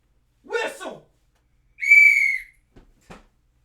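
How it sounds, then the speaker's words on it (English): A short voice-like burst, then a single clear, sustained whistle lasting about half a second, followed by a couple of faint clicks. "Whistle."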